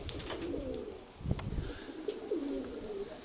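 A few pigeons coo in low, wavering phrases nearby, two or three distinct rolling calls over a muffled background with one brief thump, no speech.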